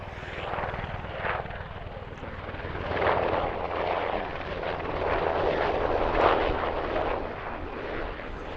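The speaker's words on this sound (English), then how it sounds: "Ooh, that is a Black Hawk helicopter. U.S. Army." A U.S. Army Black Hawk helicopter flies in over Lancaster, Pennsylvania, as a steady, fairly loud broadband rotor and engine roar that holds throughout, swelling slightly partway through, with no voices.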